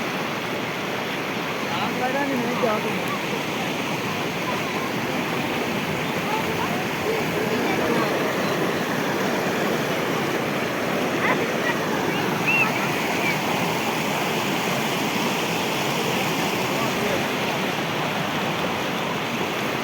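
A continuous, loud roar of floodwater rushing through a breached pond bank fills the whole stretch, steady and unbroken, like a strong flow pouring through a gap.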